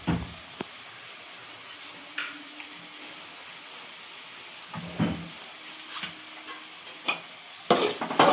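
Egg fried rice stirred in a hot pan, with scattered scrapes and light clinks of a spoon against the metal over a faint steady sizzle; no one speaks.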